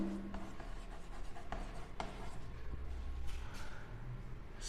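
A pen writes on paper or a board during a Class 11 maths lesson on sets: faint, steady scratching strokes with small taps, heard alone against a quiet room hiss.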